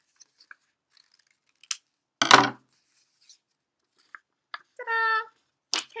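Scissors snipping paper hearts for a bumblebee craft, a few sparse close crunches and short metallic snips broken by quiet gaps, with one longer cut near the end.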